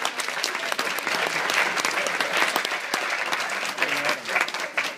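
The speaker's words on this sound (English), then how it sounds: "can I get a hand clap for Gina and how beautiful she looks today?" A crowd claps steadily and loudly throughout, a dense continuous patter of many hands applauding together.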